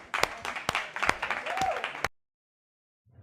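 Crowd applause at a crypto event, heard as played-back footage, with scattered sharp claps and a voice over it for about two seconds, then an abrupt cut to silence.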